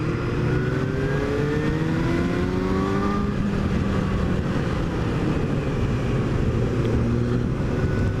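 A 2016 Suzuki GSX-S750 (GSR 750) motorcycle engine pulls in fourth gear at about 3,000 rpm on a test ride, a close, continuous engine drone whose harmonic tone climbs steadily under constant road and wind rush.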